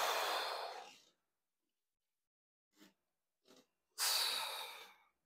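Deep, airy breaths during a slow stretching and movement routine for the glutes: a long exhale, two short sniffs, then another long breath, close and clear in a quiet room.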